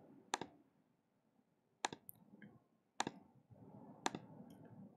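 A computer mouse clicks in sharp, close double clicks, four distinct click pairs spaced about a second apart against a quiet background.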